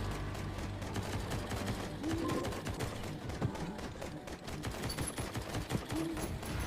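Gunfire from guns in a video game, heard as rapid dense rattling bursts that run almost continuously at moderate loudness, with a few brief electronic tones over it.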